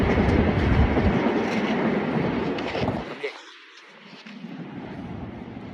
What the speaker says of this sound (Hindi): ये देखो मेट्रो जा रहा है, ये एक्सप्रेस, ये ट्रेन है, बुलेट ट्रेन की तरह दिखती है